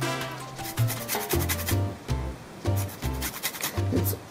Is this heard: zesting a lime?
yes